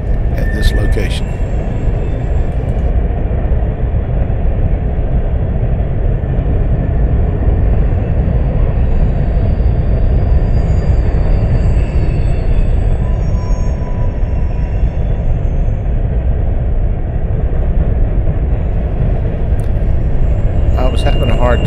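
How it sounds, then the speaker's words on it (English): A freight train of empty coal cars rolls past Callahan Junction. A loud, steady rumble of wheels and clattering wagons continues unbroken throughout, with faint high squeals above it. "I can tell you that was empty coal cars going back north"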